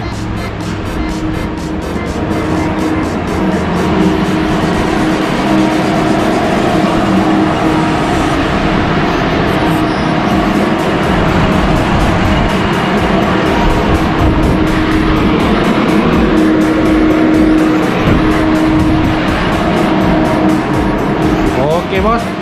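A Yamaha Y15ZR motorcycle engine revs hard on a dyno during a tune, giving a loud, sustained roar that holds steady for the whole stretch with no pauses.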